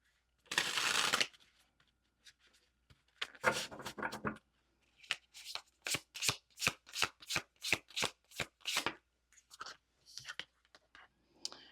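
Tarot cards being shuffled close up: a long riffling burst, a second burst, then a run of about a dozen crisp, evenly spaced card snaps and a few softer flicks, with no talking.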